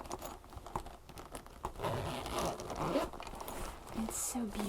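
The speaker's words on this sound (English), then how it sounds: "Zipper, a really nice white clean zipper down here." A leather bag's zipper rasps open in a few short pulls, close and crisp, with rustling fabric and faint handling noises around it.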